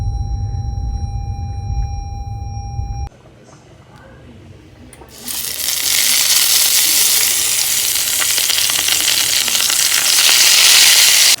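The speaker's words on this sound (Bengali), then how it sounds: "এখানে রান্না করছি বেগুন ভাজা" Eggplant frying in a pan, heard as a loud, steady sizzle that starts partway through, after a stretch of tonal beeping and a quieter gap.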